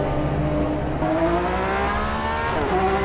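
A GTE race car in the sim racing game rFactor 2 roars steadily at high revs, a loud continuous engine tone rising in pitch and shifting gear partway through, with no talking.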